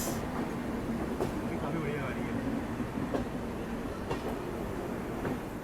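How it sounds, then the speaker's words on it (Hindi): The Bhiwani–Prayagraj Kalindi Express pulls out of Kanpur Central station with a steady low rumble and faint rhythmic wheel clatter, moderately loud and continuous, with a voice talking over it. "ये आपकी भिवानी प्रयागराज कालिंदी एक्सप्रेस डिपार्चर ले रही है कानपुर सेंट्रल स्टेशन से"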